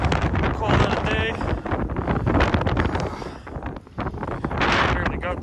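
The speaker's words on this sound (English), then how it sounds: "I'm sure you can hear this wind. It is insane." Strong gusty wind buffets the microphone beside a trout stream on a Pennsylvania opening day, a loud roaring rumble that rises and falls, with a person's voice partly mixed in.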